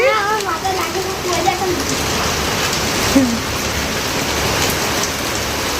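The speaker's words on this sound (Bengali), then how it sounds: "কি বৃষ্টি" Heavy rain pours steadily onto surfaces nearby at a rural home, a dense continuous patter with a few brief voices and animal calls mixed in.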